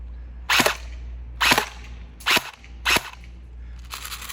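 Four sharp shots from a battery-powered Cyma CM47T AK47 airsoft rifle, each a short snapping crack, fired at uneven intervals against a low background hum.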